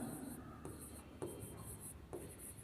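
Chalk or marker writing on a board during a science lesson on nitrogen content in urea, several short scratchy strokes with brief pauses, faint and close, with soft room noise behind.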